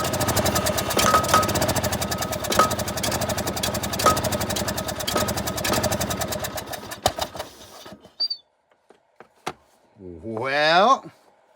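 A John Deere L100 lawn mower engine that had sat unused for years runs with a loud rapid chugging, then cuts out, followed by a few short attempts and a rising starter whir near the end, with someone talking.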